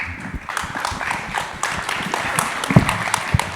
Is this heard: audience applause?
yes